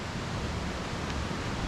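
A mountain stream overflowing after rain on Bukhansan's Jindallae ridge rushes in a steady, dense roar, loud and close, with no talk over it.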